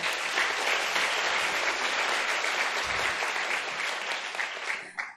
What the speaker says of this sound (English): I would like to ask you to give a round of applause for all the